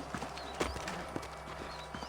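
Horses in the Western video game Red Dead Redemption walking at a slow pace, hooves clip-clopping in an uneven rhythm at moderate distance over a low ambient bed.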